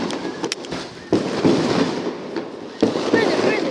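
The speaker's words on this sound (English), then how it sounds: "Oh, fireworks! Fireworks! Fireworks!" Fireworks exploding on Christmas night, several sharp booms and crackling bursts at irregular intervals at moderate distance, with excited voices talking over them.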